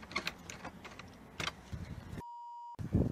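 A car being locked with a remote key fob, a single steady electronic beep after some soft clicking and handling noises, close and fairly quiet.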